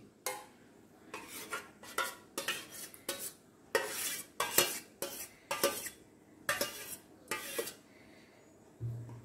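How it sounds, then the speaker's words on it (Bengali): Chicken is mixed with yogurt in a bowl by hand-held utensil, giving a series of irregular scraping, clinking strokes at close range, roughly a dozen bursts separated by short pauses, with no talk. "এরপর আমরা চিকেনটার মধ্যে একটু দই মাখিয়ে নিচ্ছি।"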